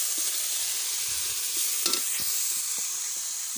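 Prawns frying in a hot pan on an outdoor stove, a steady loud sizzle and hiss with faint clicks of stirring throughout, no voices.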